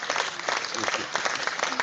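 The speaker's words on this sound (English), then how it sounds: "PM deserves a round of applause" A round of applause during an online press briefing, brief and somewhat muffled crowd clapping, dense and even, heard over a compressed connection.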